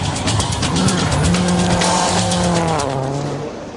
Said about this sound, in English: The spin cost Loeb 22 seconds